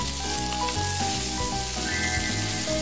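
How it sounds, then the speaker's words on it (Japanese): Meat and onions sizzle loudly in plenty of hot oil in a pot for Uyghur laghman, a constant crackling fry with a steady tone humming underneath. "鍋に油をたっぷり入れて温め、肉とネギなどを入れて塩コショウをします。"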